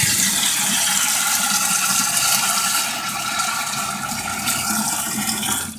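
Water from a full-size supply gushes into a small washing machine tub, a loud, steady rushing fill with faint rattling that dips slightly midway.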